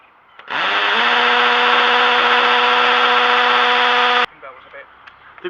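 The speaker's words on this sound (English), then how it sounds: "We're using a number 6 drill because that happens to be the right size for this plug." A number 6 drill bit in a power drill boring a hole for a wall plug, a loud steady whir for about four seconds that stops abruptly, followed by faint handling noise.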